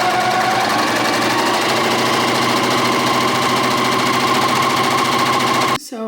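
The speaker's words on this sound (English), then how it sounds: "So this is my cover stitch machine." A cover stitch machine runs steadily at high speed while hemming fabric, a loud continuous mechanical whir and rapid needle chatter close by, stopping abruptly near the end.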